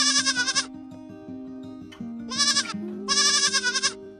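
A goat bleats in quavering bursts, one at the start and two close together later, over a steady backing of musical tones, with no talk.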